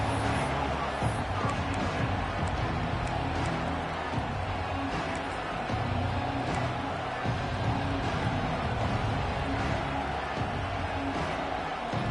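Stadium crowd at a Texas A&M at Georgia college football game: a dense, continuous roar of many voices, loud and steady throughout, with scattered shouts rising out of the mass.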